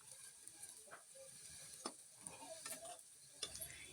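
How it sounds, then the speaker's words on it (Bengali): Sliced green banana sizzles in a hot pan while a utensil scrapes and stirs it in irregular strokes, fairly close, with no voices. "এভাবে নাড়াচাড়া করতে করতে দেখুন একদম লাল লাল হয়ে ভাজা ভাজা হয়ে আসছে"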